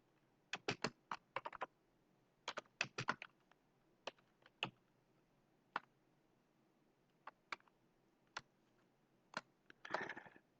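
Keystrokes on a computer keyboard typing a short hello world program in Python, sharp clicks in quick bursts with pauses between, ending in a denser flurry of presses, close and clear with no talking.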